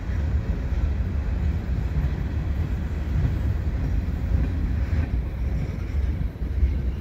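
Continuous low rumble of a CN mixed freight train passing at Dorval, steady and fairly loud throughout, with some wind buffeting the microphone and no one talking.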